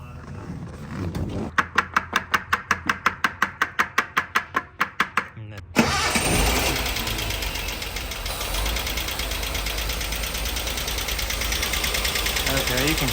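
A barn-find Datsun 240Z cranks over in a rapid, even series of starter pulses, then fires and roars into a loud, steady running engine that keeps going to the end.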